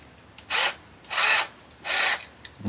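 A 10V cordless drill driver in drill mode gives three short, close whirring bursts of about a quarter second each, with brief quiet gaps between them.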